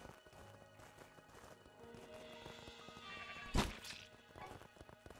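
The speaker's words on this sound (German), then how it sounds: "Ah, das Schaf." A sheep in the video game Craftopia bleats once, sharply and fairly loud, over faint game ambience and footstep-like clopping.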